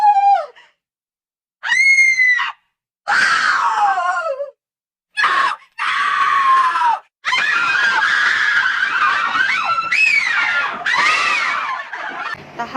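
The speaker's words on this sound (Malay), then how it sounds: "suara jeritan di luar kawalan" Loud, piercing screams burst out in several uncontrolled shrieks, some short and some drawn out, separated by brief silences.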